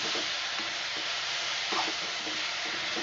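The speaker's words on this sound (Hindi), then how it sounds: "बहुत अच्छी तरह से फ्राई हो रहा है ये।" Desi chicken fries in a pan over a medium flame, giving a steady, close sizzle with a few faint stirring scrapes and no voices.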